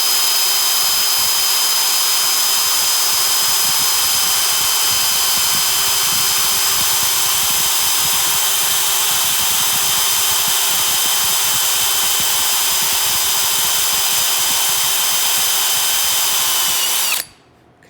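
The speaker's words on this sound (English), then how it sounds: "what we'll do is we'll drill through the lock bolster" A power drill bores through the lock bolster of a colonial gun kit with a loud, steady high whine for about seventeen seconds before it abruptly stops.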